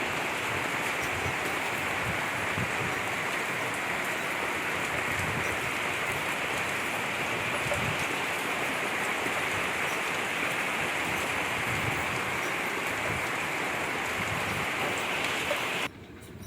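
Steady rain pours down in a dense, even patter for the full length, loud and unbroken, before briefly dropping away at the very end; no voices.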